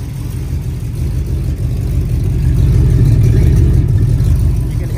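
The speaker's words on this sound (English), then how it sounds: "you can hear the camshaft in it." An Oldsmobile 403 V8 fitted with a camshaft runs steadily with a dense low rumble and a slightly uneven, lopey idle, loud and close without any voices.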